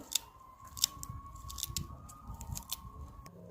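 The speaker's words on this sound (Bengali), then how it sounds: "ধনে পাতাটা আমি কেটে দিচ্ছি ছোট ছোট করে" Coriander leaves are cut into small pieces. Quick, crisp snipping clicks come close up in an irregular series, with soft rustling between the cuts and no speech.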